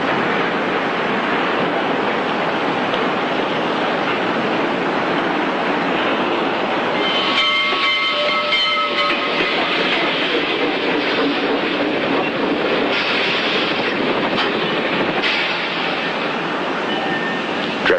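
A train rolls steadily along the rails in a loud, continuous rushing rumble, with a brief tonal horn-like whine midway and a few louder surges near the end.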